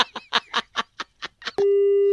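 A telephone line after hang-up: a run of short clicks and chirps, then a steady, loud, pure continuous tone close by, with no one talking.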